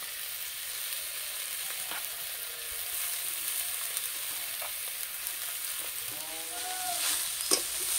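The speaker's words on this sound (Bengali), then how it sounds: "এই চারটা পুঁই শাক একটু ভাজতে সময় লাগে।" Malabar spinach frying in a pan, a soft steady sizzle running throughout with a few light stirring scrapes near the end and no talking.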